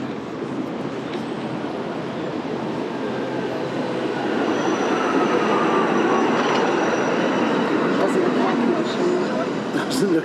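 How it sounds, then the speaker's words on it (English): Tram rolling past on a street in Budapest, with a steady loud rumble of wheels on rails that swells toward the middle and later, faint squeals and clatter, and people talking close by over it. "It's a train. A tram."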